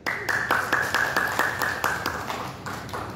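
Audience at an Indonesian motivational religious lecture claps in a series of sharp, evenly spaced beats, about a dozen distinct claps in a rhythmic pattern, fairly close and clear with no talking.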